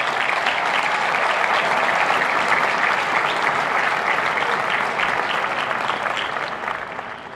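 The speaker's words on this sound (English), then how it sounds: "Please join me in giving them a round of applause" Audience at a University of Virginia law, Darden and McIntire graduation ceremony gives a sustained round of applause, dense and even throughout and tapering slightly at the end, with no talk over it.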